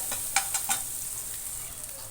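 Cumin and garlic sizzle in hot oil in a pan, a steady soft hiss with a few quick stirring clinks near the start, close and alone without talk.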